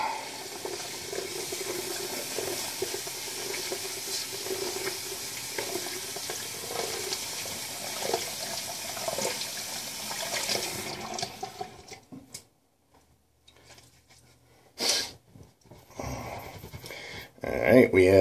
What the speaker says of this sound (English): let me rinse the brush off quick.